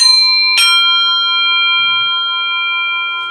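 A single metallic strike on a sound disc from a drum kit, ringing out with a long, clear, sustained bell-like tone, slowly fading, with nothing else around it.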